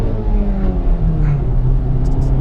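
Honda Civic Type R driving slowly through a residential area, a steady low engine and road rumble heard from inside the car, with no talking.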